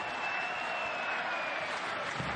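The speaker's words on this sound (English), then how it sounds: "Crowd is electric here at Al Lang." A stadium crowd cheers at Al Lang Stadium during a USL Championship soccer match between the Tampa Bay Rowdies and LouCity, a steady, distant wash of roaring voices and applause.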